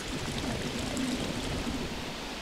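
Rushing water of a steep mountain torrent tumbles and bubbles down a slope in Corsica, a steady, dense broadband wash that fills the whole scene without pause or voices.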